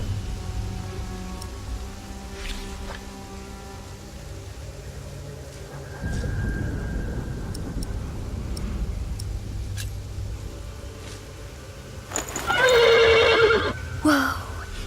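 Dull hoof thuds and ambient noise in the video game The Pillars of the Earth, then a horse lets out a loud, close whinny near the end, followed by a shorter snort.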